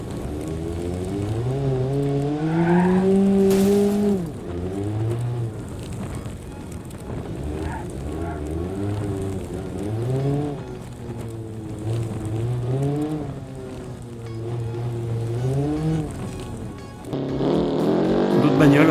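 Engine of a car driven in the video game BeamNG Drive, revving up and down through gears with rising and falling pitch sweeps, loud and continuous, with a brief burst of noise partway through.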